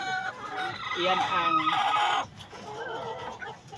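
Chickens cluck loudly and close at hand while a rooster's calls rise and fall, with the birds quieting briefly midway before clucking resumes; a person speaks a few words over them.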